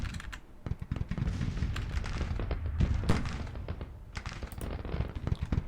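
Dense, crackling musket volleys from a Civil War infantry brigade in the strategy game Grand Tactician: the Civil War, many overlapping distant shots forming a continuous ragged rattle with a low rumbling bed beneath.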